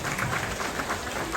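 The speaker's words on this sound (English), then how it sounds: "Clap your hands out there if you love to exercise." Zoo audience clapping their hands, a brief, even patter of many hands from a moderately distant crowd with no voices.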